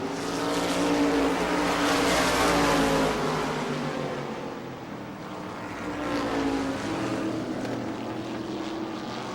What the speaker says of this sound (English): The 19 car, though, driving it deep into the turns and finding an advantage there.